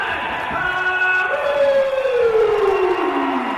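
A loud wrestling crowd at a British wrestling show roars continuously while a siren-like tone rises and then slowly falls over the noise.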